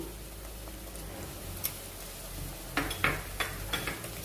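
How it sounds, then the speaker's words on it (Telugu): Ginger garlic paste frying with onions in a pan for beetroot curry, with a low steady sizzle and a few sharp spoon scrapes and clinks against the pan toward the end. "ఈ అల్లం వెల్లుల్లి పేస్ట్ కూడా పచ్చి వాసన పోయేంత వరకు కలుపుకుంటూ మరో నిమిషం పాటు దీన్ని వేయించుకున్నాము."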